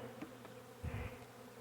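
A low, steady buzzing of a honey bee swarm being installed into a hive hums close by, swelling briefly louder midway before settling back to a soft drone.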